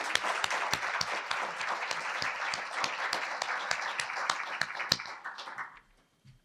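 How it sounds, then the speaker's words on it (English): A luncheon crowd applauds steadily with dense clapping, then the applause thins and fades out near the end. "Let's give them a round of applause."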